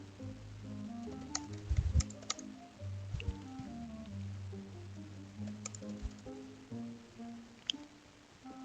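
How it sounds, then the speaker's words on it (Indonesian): Fingers typing code on a computer keyboard, a quiet scatter of soft key clicks in irregular bursts, close up over a faint low hum, with no voices. "mari kita ketik kode untuk memperkenalkan diri kita masing-masing"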